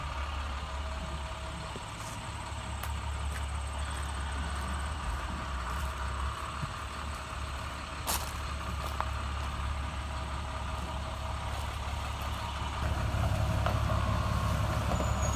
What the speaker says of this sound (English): That's a huge truck.